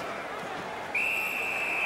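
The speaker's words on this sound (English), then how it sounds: "Puck covered. Whistle blown." A referee's whistle sounds midway through a simulated NHL 17 hockey game. It is one sustained, shrill blast over low arena crowd noise.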